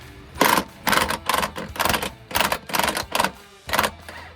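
About eight close, even bursts of rapid ratchet clicks as a bolt on a 1978 Camaro leaf spring is loosened, each pull separated by a short gap.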